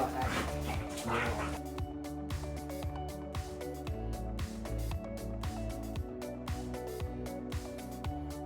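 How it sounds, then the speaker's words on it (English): Dogs playing and play-fighting indoors in a living room, with a run of close, sharp yips, barks and whimpers over a steady background of music. "Not to mention the dogs fighting in the background."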